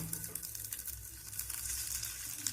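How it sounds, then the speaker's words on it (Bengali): Snacks frying in melted butter in a pan, a soft steady sizzle with faint crackling, quiet and continuous. "এখানে বাটারটা গলে গেছে। এখন এই নাস্তাগুলো দিয়ে আমি এপিট ওপিট ভেজে নেব।"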